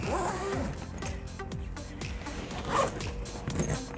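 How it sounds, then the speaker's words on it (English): The waterproof zipper of a food delivery bag is pulled along in several repeated rasping strokes, close and fairly loud, with brief pauses between pulls. "Zip it up. The zipper is also waterproof."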